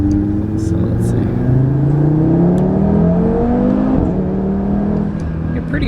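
Audi RS3 accelerating hard with engine revs climbing and dropping through quick gear shifts, heard loud from inside the car with a steady road roar underneath and a person talking briefly.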